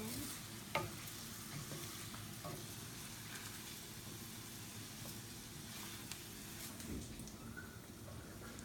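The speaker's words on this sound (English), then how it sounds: "Now I'm going to add it to my veggies, corn, and stir it all in." Corn is stirred into sautéing vegetables in a pan while making summer risotto with sweet corn and shrimp, producing a soft, steady sizzle broken by occasional scraping clicks and a light knock.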